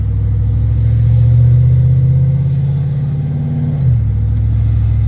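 A car with a 4L60E automatic transmission and a Corvette servo accelerates, its engine droning loudly and steadily, then the pitch drops abruptly as the gearbox makes a hard upshift.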